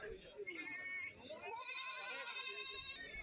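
A young goat kid at a Kerala goat market bleats in a run of wavering, drawn-out cries that grow louder partway through, with people's voices murmuring underneath.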